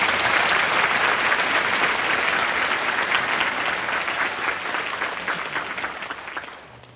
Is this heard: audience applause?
yes